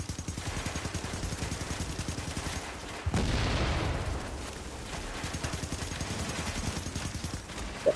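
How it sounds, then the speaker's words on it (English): Sustained, rapid enemy gunfire in the video game The Division, coming from a heavy enemy firing constantly at the player inside the Lexington Event Centre: dense rattling bursts with a louder blast around the third second. "I've got a goddamn fatty shooting at me constantly"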